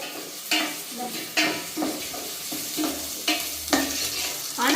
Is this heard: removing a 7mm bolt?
no